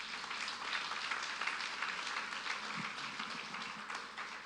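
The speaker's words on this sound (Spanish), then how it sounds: "Dese un aplauso usted mismo, por favor." A church congregation claps during a Spanish-language service, a steady, moderately distant wash of applause lasting several seconds with no pause.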